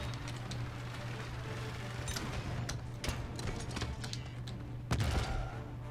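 A Paladins video game character fires her weapon in rapid bursts, quick sharp shots crackling in clusters over a steady game hum, moderately loud with no talk.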